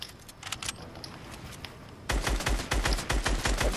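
Rapid bursts of gunfire from a video game clutch, sparse and quieter at first, then dense, loud automatic fire from about two seconds on, with no talking.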